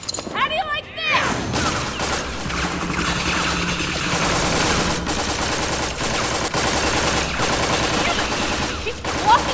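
Rapid gunfire in Tales from the Borderlands keeps up as a dense, continuous clatter of shots lasting several seconds, loud and busy, with a voice speaking over it near the start.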